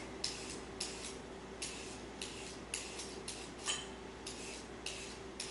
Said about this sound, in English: Carrots we peel with the carrot peeler